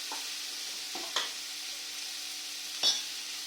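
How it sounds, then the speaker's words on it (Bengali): Pointed gourd slices fry quietly in a pan, a faint low sizzle broken by two or three brief stirring scrapes, with no voices. "এদিকে পটল ভাজছি দেখুন।"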